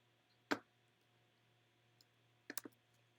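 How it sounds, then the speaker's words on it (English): Faint computer mouse clicks in a quiet room: one sharp click, then a brief cluster of two or three quick clicks a couple of seconds later. "So I'm going to click Build Widget."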